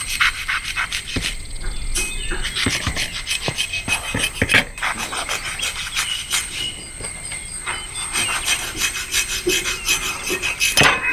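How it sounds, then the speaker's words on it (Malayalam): A leatherjacket fish is cut with a knife before grilling, giving steady rasping, scraping strokes with sharp clicks and knocks, close and fairly loud throughout with no talk. "ഞാൻ ആദ്യം ഇതിൻ്റെ 2 സാധനം കട്ട് ചെയ്യുവാണ്"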